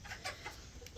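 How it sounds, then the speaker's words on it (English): Farm chickens cluck softly in a few short, quiet bursts, close but faint, with no talking. "all new chickens this year"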